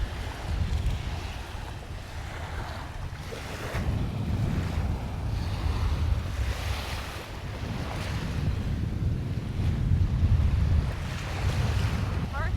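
Rough ocean waves at the northern tip of Anna Maria Island, Florida, a continuous loud surf wash with swelling surges, heavily mixed with gusting wind buffeting the microphone.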